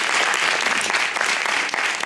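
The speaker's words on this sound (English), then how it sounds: "Give them another round of applause," Dense, continuous clapping from an improv class graduation audience, loud and steady throughout the short stretch with no voices over it.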